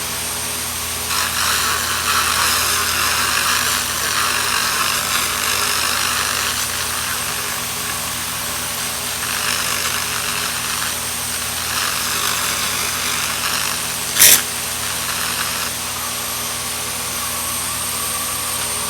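A laser cleaner blasts paint off the bumper of a VW Beetle, a steady loud roaring hiss with a buzzing whine that rises and falls in pulses, plus one brief sharp crack partway through, no talking.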